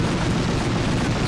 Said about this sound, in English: Throw a couple grenades.